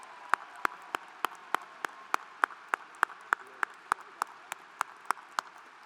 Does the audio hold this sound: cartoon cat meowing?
no